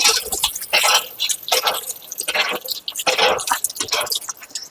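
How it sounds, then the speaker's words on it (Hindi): Repeated splashing gushes of water from a hand pump, coming in rhythmic surges with dripping between strokes, close and fairly loud. "ये देख नल है ना अब लाओ तनी पानी चलाओ"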